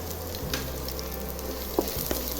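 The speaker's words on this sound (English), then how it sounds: "I'm adding my onions." Onions fry in a pan with a steady close sizzle, broken by a couple of soft stirring knocks and scrapes, and no one talking.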